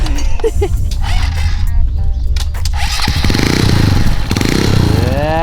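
Motorcycle engine with three fuel injectors revving loudly up close during a test ride, a rough sputtering idle rising into a sustained buzzing roar with pitch sweeps as it accelerates.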